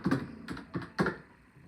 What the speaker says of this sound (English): So I'm going to type in business card mock-up.